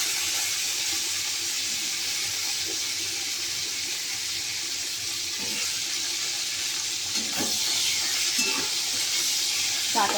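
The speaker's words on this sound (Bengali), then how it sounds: "তারপর কিন্তু ডাঁটাগুলো ভেজে নেব।" Vegetable stalks fry in oil with a continuous broad hiss, close and fairly loud, with a few soft knocks and stirring sounds breaking through.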